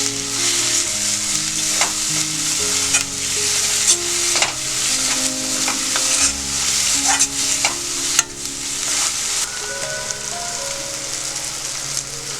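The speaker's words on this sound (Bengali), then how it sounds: "একটু কষার পরে চিংড়ি মাছগুলো দিয়ে একটু কষতে হবে।" Prawns sizzling and sautéing in hot oil with spices, loud and continuous frying crackle with repeated stirring scrapes throughout, no voices.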